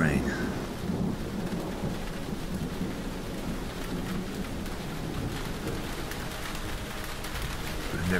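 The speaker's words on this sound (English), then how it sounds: "Here comes the rain." Heavy rain falls with rolling thunder in a disaster movie scene, a dense roaring downpour opening loud and settling into a steady wash, with a deep rumble underneath.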